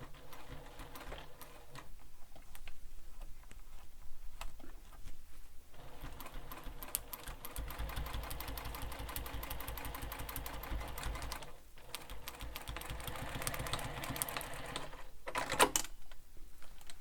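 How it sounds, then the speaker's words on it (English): A sewing machine stitches back and forth across a backpack seam in several runs, its rhythmic clacking growing steady and loud in the middle, separated by short pauses and small handling noises. "So we're stitching across it 4 times in total, twice at the top and twice at the bottom."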